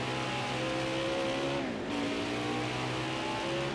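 A racing truck engine from a video game drones at high revs on the Sonoma Raceway road course, loud and continuous with a brief dip in pitch midway.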